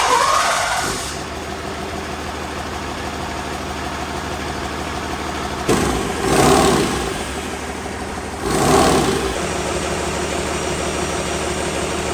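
A Cummins ISB 6.7 diesel engine, freshly fitted with a replacement cylinder head, idles with a steady low rumble, briefly revving twice before settling back to idle.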